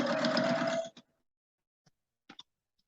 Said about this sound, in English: I'm bringing them over to my sewing machine. I am not breaking thread. And I'm just going down through here and I'm doing a quarter-inch seam